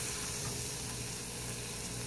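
Noodles being mixed with a splash of lemon juice in a hot pan: a steady close sizzle and frying hiss throughout, with a brief scrape of stirring at the very end.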